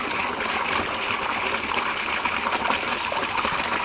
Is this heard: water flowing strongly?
yes